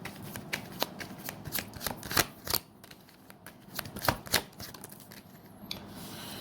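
Tarot cards are shuffled for a reading, heard as soft, close riffling and flicking with irregular sharp slaps and pauses. The sound is fairly quiet and there is no speech.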